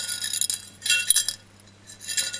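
Cracked glass fragments from a damaged laser tube clink together in a few short bright bursts separated by pauses, close and fairly clear with no talking.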